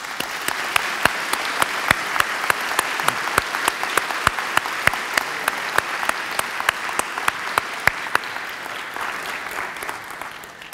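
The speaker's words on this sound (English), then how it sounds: "now let's give all three of them a round of applause" Audience applause at a Unity Temple service, a steady wash of clapping from a seated crowd lasting about ten seconds, with sharp individual claps standing out and the sound tapering slightly at the end.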